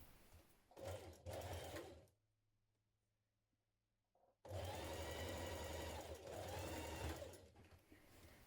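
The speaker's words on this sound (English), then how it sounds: "you're going to edge finish or overlock the outer unnotched edge." An overlocker finishes the outer edge of a T-shirt seam in two bursts of fast, even whirring. The first burst is short, then there is a quiet pause before a longer, steady run.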